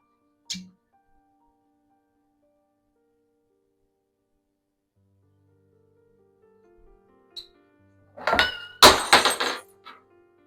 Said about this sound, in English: obviously you saw what happened with the glass. It slipped out of my hands.